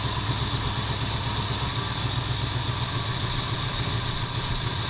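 A 1977 Ford F250 351M V8 engine with a rough idle runs steadily with a low, continuous rumble and faint mechanical clatter, close by and unchanging throughout.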